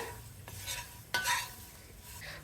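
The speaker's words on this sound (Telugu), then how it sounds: "ఒకసారి తిప్పేస్తాను" A spoon stirs fried tempering into jackfruit seed fry in a pan, the food sizzling steadily with a few sharp scrapes and clinks of metal against the pan.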